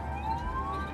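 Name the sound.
ambulance siren while travelling at high speed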